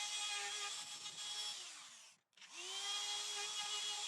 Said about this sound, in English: Now I can route out the recess holes in the male joint.